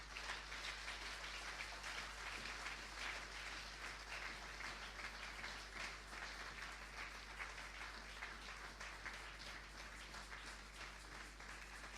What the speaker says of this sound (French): Alors nous allons acclamer très fort le roi des rois.